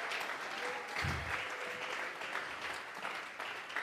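A church congregation claps during a Spanish-language service, a dense steady wash of many hands applauding together, sustained and fairly even throughout with no speech over it.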